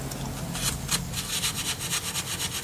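Steel wool scrubs a wire on an old Hawk Cycles bicycle, a steady gritty rasping with repeated back-and-forth strokes, close and moderately loud, with no voices.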